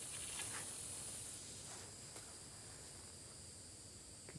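Insects buzz in Florida Highlands summer woods, cicadas or locusts, as a steady high hiss-like drone that persists through the whole stretch at moderate level, with a few faint rustles and clicks and no voices.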